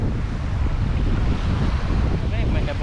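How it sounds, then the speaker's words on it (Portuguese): Cold wind buffeting the microphone at a beach during shore fishing, a constant roaring rush mixed with surf, loud and unbroken, with a faint voice near the end. "Vento frio, meu irmão."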